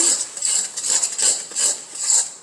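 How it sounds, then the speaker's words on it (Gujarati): A spoon scrapes and stirs a roasted gram flour mixture for mohanthal in a metal pan off the heat, rhythmic scraping strokes repeating about every half second, close and clear. "અને સરસ રીતે મિક્સ કરી લઈશું"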